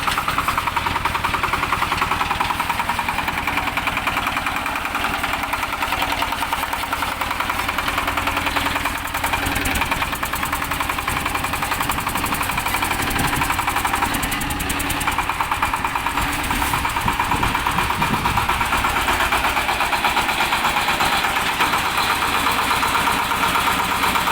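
A Shifeng 244 single-cylinder, belt-driven, four-wheel-drive mini tractor engine runs steadily and loudly throughout, with an even, knocking idle rhythm and a continuous mechanical rattle.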